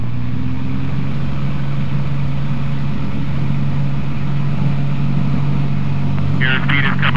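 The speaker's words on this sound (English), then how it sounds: "Line up on the runway, hold the stick neutral, advance the throttle." Small Cessna light airplane engine droning at full throttle during its takeoff roll, a steady loud continuous hum with strong low tones, pilot talk heard faintly over it near the end.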